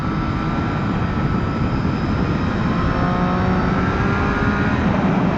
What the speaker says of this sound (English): He says as he accelerates hard.